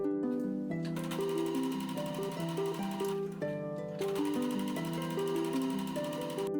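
A sewing machine runs a seam on a tiered skirt, its rapid rhythmic stitching chatter faint beneath louder melodic background music throughout.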